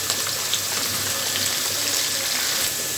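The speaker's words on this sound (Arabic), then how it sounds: "واحنا نحمر بقى البصل كده" Onions frying in oil for Egyptian koshari, a steady broadband sizzle that stays loud and close, with light bubbling spatter and no gaps.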